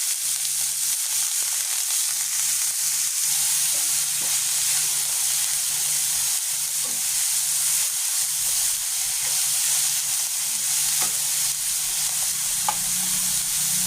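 Elephant foot yam leaf thoran with shallots and green chilies cooking in a pan on a low flame, a steady soft sizzle and hiss with faint occasional stirring scrapes, no voices.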